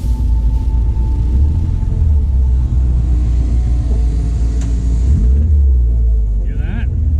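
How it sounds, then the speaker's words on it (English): A blown Ecotec engine in a Miata idles with a steady low rumble and a rhythmic knocking beneath it, heard close up, with brief voices in the background. "think I might have blown the motor. I think I have rod knock."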